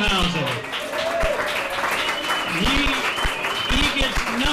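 An audience at a live acoustic guitar performance applauds a guitarist, a moderate burst of clapping with a voice talking over it.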